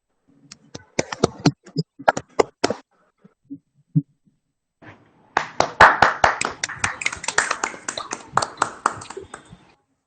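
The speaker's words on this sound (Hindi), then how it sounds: "एक बार जोरदार तालियां हो जाएं।" Audience applause at an online Hindi poetry event: a scattering of sharp, separate hand claps that stop briefly, then a denser, louder burst of clapping that tapers off, with voices faintly alongside.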